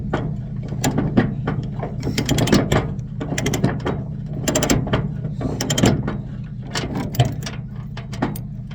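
A latch on an equipment trailer is flipped and tightened, giving a steady run of loud, close mechanical ratcheting clicks and metallic clacks in an irregular rhythm, with no talking.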